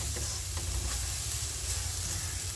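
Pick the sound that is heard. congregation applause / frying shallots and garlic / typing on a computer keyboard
frying shallots and garlic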